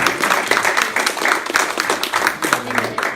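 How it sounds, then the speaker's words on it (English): Audience applause for a careers panel at an evening society event, a dense steady patter of many hands clapping close by for about three seconds. "can we get another round of applause for our panellists this evening for coming down?"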